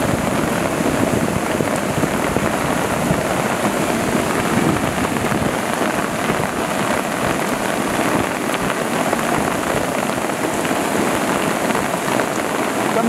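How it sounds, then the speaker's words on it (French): Heavy rain pouring steadily onto surfaces nearby during a storm at Le Claret, a dense constant hiss with no voices. "Comme vous entendez, il pleut de plus en plus."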